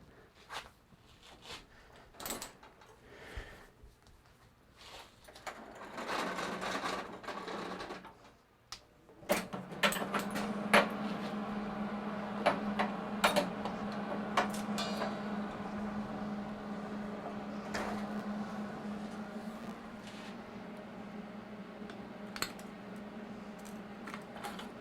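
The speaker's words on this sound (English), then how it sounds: "Let's fire up the old MIG." A MIG welder starts after a few clanks of metal and handling, then a close, steady buzzing crackle runs continuously for most of the remaining stretch, with small pops throughout.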